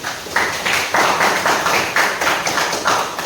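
A classroom group gives a short round of applause, with several people clapping in quick, uneven bursts that sound close and fairly loud.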